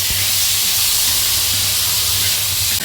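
Tomatoes frying in a pan with salt, a loud, continuous hiss of sizzling steam held steady from start to finish, close up and without talk.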